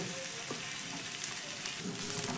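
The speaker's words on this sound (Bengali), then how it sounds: "খুব ভালো করে মশলার সঙ্গে আলুটাকে প্রথমে মিশিয়ে নেব" Mashed boiled potatoes are stirred into fried spices in a hot pan, giving a steady close sizzle with soft scraping from the stirring.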